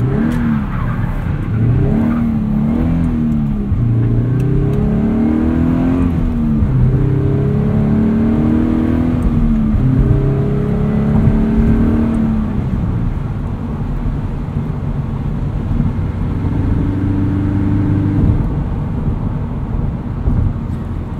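A car engine rev-matches during heel-and-toe downshifts under hard braking, with rising and falling revs, quick throttle blips and an ongoing interior engine drone.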